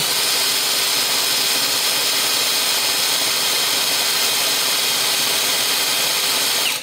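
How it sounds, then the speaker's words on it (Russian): A VVOSAI WS-Z9 cordless impact driver runs flat out at top speed, a loud, steady high-pitched whine with a constant drone that holds unbroken for several seconds and cuts off abruptly at the end. "Переключаем скорость на максимальную. Вот у нас максимальная скорость."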